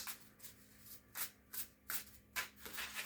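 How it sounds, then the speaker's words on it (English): Tarot deck shuffled by hand, a run of soft riffling bursts in an uneven rhythm, close and quiet, with no talking. "Shuffle the deck."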